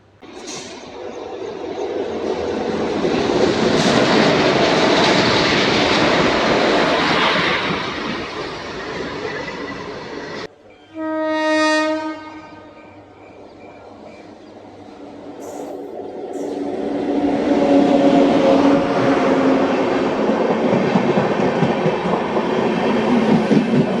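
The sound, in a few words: Yesvantpur to Bhubaneswar AC special train passing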